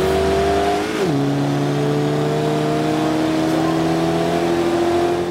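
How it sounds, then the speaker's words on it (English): An Alfa Romeo 4C sports car engine in the video game Forza Horizon 2 drones loudly and steadily, its exhaust note dropping sharply once as it shifts, then holding a smooth, even tone. "Exhaust sounds really good."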